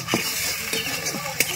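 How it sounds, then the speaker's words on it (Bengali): Masala cooked with whisked sour yogurt sizzles steadily in a pan while being stir-fried, with a few soft scraping strokes of the spatula over a constant crackling hiss, no voices. "টক দই দিয়ে আরেকটুখানি ভালো করে কষিয়ে নেব।"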